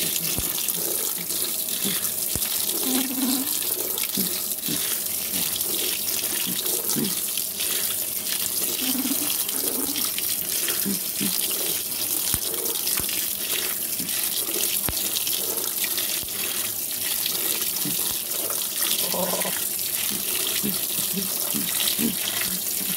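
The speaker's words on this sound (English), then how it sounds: "Filling up for the rinse cycle with cold water." A Frigidaire washing machine fills with cold water for its rinse cycle, a steady rushing water flow running nearly continuously at even loudness, with small splashes and clunks along the way and no talking.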